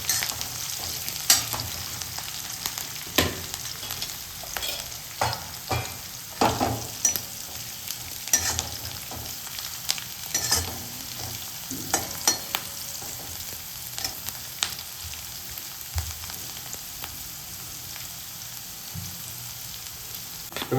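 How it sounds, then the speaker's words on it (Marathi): Garlic and green chillies fry in a pan with a steady, close sizzle, punctuated by occasional scrapes and knocks of stirring, and no voices. "हिरव्या मिरच्या पण चांगल्या फ्राय करून घ्यायच्या आहे तुम्हाला,"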